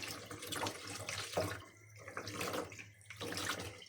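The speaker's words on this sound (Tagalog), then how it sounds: "Hugasan natin yung steak natin." A steak rinsed under a running kitchen tap gives a steady splashing water rush with shifting surges as the meat is turned in the stream, close and fairly quiet.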